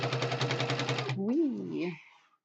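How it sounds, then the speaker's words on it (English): A sewing machine stitches upcycled napkins for a quilt, guided along the edge of the presser foot: a steady, rapid mechanical chatter up close that stops abruptly, followed by a short sliding vocal exclamation. "using the edge of my presser foot to do my stitching"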